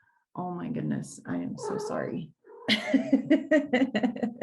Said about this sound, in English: My cat won't leave me alone.